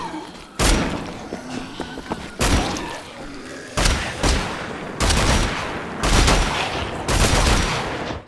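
A semi-automatic shotgun fires in a first-person shooter video game, with six loud booming blasts spaced roughly a second apart, each followed by a short echoing tail.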